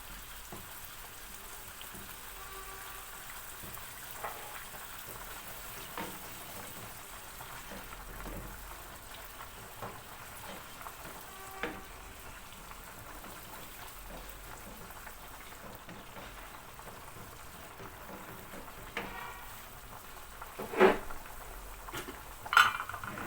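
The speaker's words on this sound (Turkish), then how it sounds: "Makarnam da haşlanıyor." Pasta boiling in a pot of water in a home kitchen, a faint steady bubbling and patter with occasional clinks of utensils and dishes, quiet and continuous, no talk.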